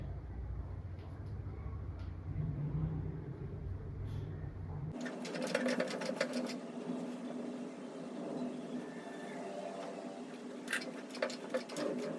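A sewing machine stitching a torn nightie, its rapid steady needle clatter running continuously for several seconds after a low hum, close and fairly even.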